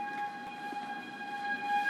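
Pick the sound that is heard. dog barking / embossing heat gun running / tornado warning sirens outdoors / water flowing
tornado warning sirens outdoors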